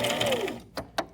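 A Brother XR3774 sewing machine runs a steady stitch for about half a second, then goes quiet, followed by two short separate clicks or knocks close up.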